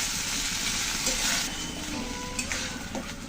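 Spices and banana sautéing in a pan give a steady, close sizzle with stirring scrapes throughout, plus a few faint clinks.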